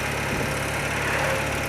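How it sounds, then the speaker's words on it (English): An old motorbike engine running with a persistent rattle, a loud, continuous close-up mechanical drone with a fast even buzz throughout, no voices. "I've investigated the gear, but I cannot find this rattle"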